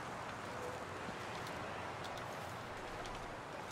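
Steady, broad rushing wind in the video game The Long Dark fills the whole stretch, a constant airy roar with no pauses and no voices.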